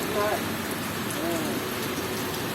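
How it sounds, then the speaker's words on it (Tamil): Heavy rain falling steadily on surfaces, a dense continuous hiss of drops, loud and close, with brief faint voices underneath. "நல்லா மழை பெய்யுது"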